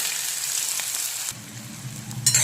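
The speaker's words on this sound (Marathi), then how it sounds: "तो कांदा असा फ्राय करून घ्यायचा, लाल होतो" Onion fries in a pan with garlic, mustard seeds and cumin, a bright hissing sizzle that drops suddenly to a quieter crackle partway through and then flares briefly at the end, with no voices.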